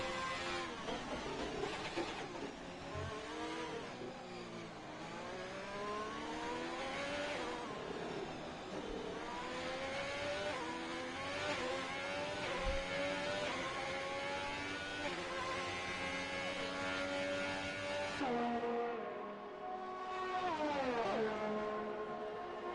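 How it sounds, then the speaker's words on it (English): Alfa Romeo race car engine in a racing game, a loud sustained high-revving whine with rising and falling pitch sweeps through gear shifts, one brief drop near the end before it climbs again. "Very nice looking Alfa Romeo going down the back stretch here"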